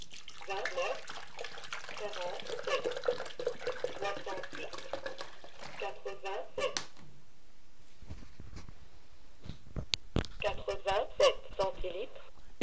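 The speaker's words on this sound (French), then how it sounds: "Je verse mon eau" Water poured into a talking measuring jug, a close trickling and splashing stream that runs steadily, pauses, then resumes, with a synthetic voice from the jug speaking in stretches.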